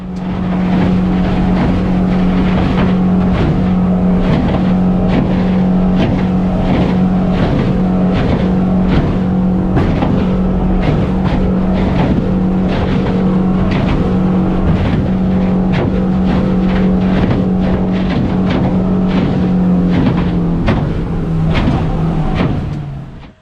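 Inside the enclosed cabin of a boat with spray chines, running through chop and hitting waves, a loud continuous engine drone with a steady low hum and rapid irregular thumps and slaps throughout.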